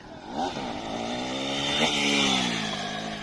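A motorcycle doing a wheelie on a road near Joypur forest: a loud engine revs up and holds a strained, rising whine, swelling toward the middle and staying close and steady to the end.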